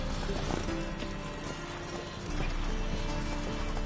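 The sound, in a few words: horses in a video game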